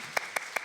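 Three sharp, evenly spaced claps ring out close by in quick succession during a talk-show discussion about capitalism and mental health, with a quiet room between them.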